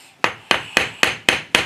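A hammer drives metal pins into the wooden plug of a handmade powder horn, six sharp, evenly spaced strikes about a quarter second apart, each ringing briefly before the next.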